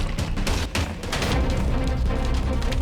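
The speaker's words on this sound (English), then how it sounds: "I opted for the shotgun, as well as the flash grenade" A shotgun blasting at brutes in the Resident Evil 2 remake on PC, a dense, loud stretch of booming shots and impacts run together with a game soundtrack, no talk.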